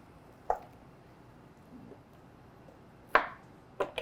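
Kitchen knife slicing a head of cauliflower down the middle on a cutting board: three soft, separate chops in a quiet room, the first one alone and the last two close together.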